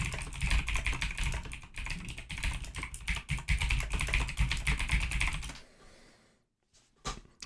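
Rapid, continuous clacking on a computer keyboard at a day-trading desk runs for about five seconds, then stops, leaving a short lull and a few final taps.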